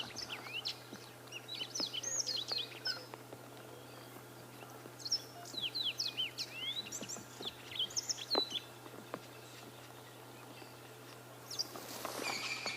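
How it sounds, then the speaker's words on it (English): Outdoor song of a yellow-fronted canary at sunrise: bursts of lively chirps and trills repeating over a faint steady hum, ending with a brief rustling noise. "That's the yellow-fronted canary."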